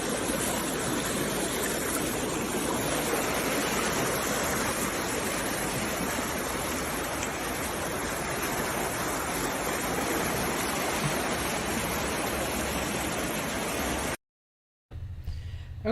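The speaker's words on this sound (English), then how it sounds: "here is something I can show you from the ancestral river" An ancestral river in the Ashanti region flows with a steady, dense rush of water, unbroken and fairly close, before cutting briefly to silence near the end.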